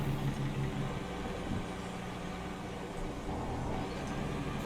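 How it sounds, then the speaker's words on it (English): Cars and trucks driving by in front of a house, a steady low engine rumble and road noise that swells and fades slightly, continuous and moderately loud with no talk. "I don't know if you can hear the cars going by out in front of my house here,"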